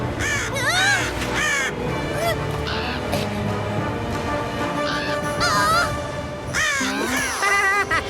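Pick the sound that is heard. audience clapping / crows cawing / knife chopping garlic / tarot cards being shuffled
crows cawing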